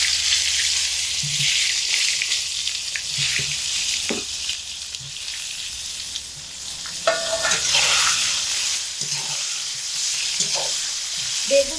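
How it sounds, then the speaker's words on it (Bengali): Large cut eggplant pieces frying in oil over low to medium heat, giving a steady, close sizzle with occasional bursts and stirring clatter, no talking. "এই একই তেলের মধ্যে বেগুনগুলো দিয়ে ভেজে নেব।"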